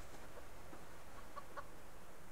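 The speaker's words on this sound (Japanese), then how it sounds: "あ、鶏ですよね" A chicken in the survival video game Subsistence gives a few faint, short clucks from somewhere off in the grass, over a steady outdoor ambient hiss.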